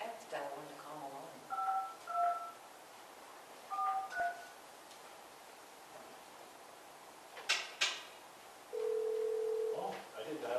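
Telephone keypad dialing at a town board meeting: several short two-tone beeps in small clusters, followed later by a longer steady tone, with a person talking quietly at the start.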